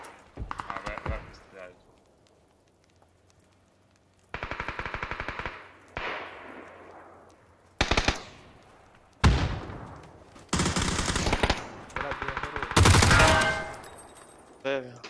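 Bursts of rapid automatic gunfire in the video game Squad, several separate volleys, loud and sharp, broken by short quiet gaps.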